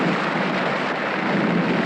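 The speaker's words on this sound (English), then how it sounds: "This year, the first storms broke early." A monsoon thunderstorm in Nepal gives a steady, loud, dense roar of rain and storm noise, unbroken and without any voices.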